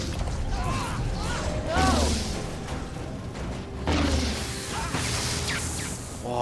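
Cannons fire in the Guild Wars 2 Heart of Thorns game, giving two heavy mechanical booms, each followed by warbling, whooshing tails over a busy background of in-game effects.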